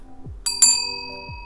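A small witch's altar bell with a pentacle on the front is rung once, giving a bright, clear ding that rings on with a sustained, slowly fading tone, close and alone.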